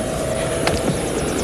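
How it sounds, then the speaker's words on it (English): Helicopter flying along the Pembrokeshire coastline in 1986, a steady loud rotor and engine roar with rhythmic blade chop filling the whole moment, no speech. "get into the helicopter, please. Explore the coastline."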